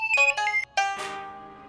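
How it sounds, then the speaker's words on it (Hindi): A phone ringtone plays a quick bright melodic electronic phrase, loud and close, signalling an incoming call in a household comedy scene, its last note ringing out and fading. "फोन आया देखना।"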